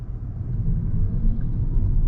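Low, steady rumble inside a 2022 Peugeot 308 SW hybrid with a 180 HP petrol engine as it cuts in while driving, a soft continuous drone with no talking.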